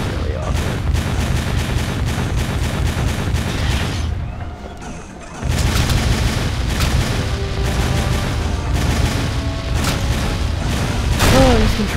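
A turret fires in the Jak 2 video game, producing continuous loud booms and rapid gunfire blasts. The barrage dips briefly near the middle before resuming at full intensity.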